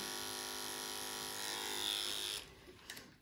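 Electric hair clippers giving a buzz cut, a steady close mechanical whine that rises slightly as the blades run through hair, then cuts off, leaving a few faint clicks.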